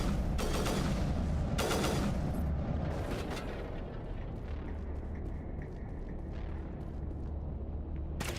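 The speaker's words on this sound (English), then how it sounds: "That's a rocket." Rocket explosions and gunfire in Mass Effect Legendary Edition: sharp bursts and booms over a steady roar of battle noise, with scattered impacts continuing throughout.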